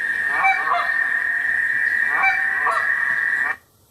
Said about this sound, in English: 2 geese doing the honks.